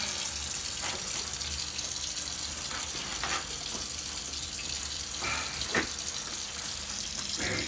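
Cold kitchen tap water runs onto kitchen roll to soak it, a steady light splashing stream with a few brief louder spatters, fairly close and without talk.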